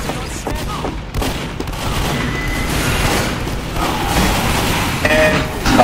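Team Fortress 2 gunfire in the middle of a busy match, rapid overlapping shots and thuds with mechanical clatter, loud and continuous, with faint voices mixed in.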